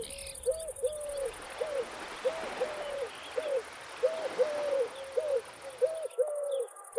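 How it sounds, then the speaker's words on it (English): Collared doves coo on a volcanic island in Italy, a repeated series of soft, rhythmic hooting notes in steady phrases, moderately close against a faint outdoor hiss. "collared doves are closely linked to humans"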